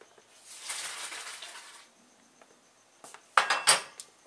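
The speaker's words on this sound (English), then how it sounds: "Let me strain out my pasta." Cooked rigatoni strained from a pot: a soft rushing pour of water, then a pause and a burst of metallic clatter and scraping from the pot and strainer, close by.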